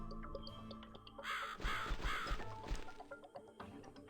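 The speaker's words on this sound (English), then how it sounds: "Another crow." A crow caws several times in the video game The Cat Lady, harsh rasping calls clustered in the middle over a quiet, eerie ambient background.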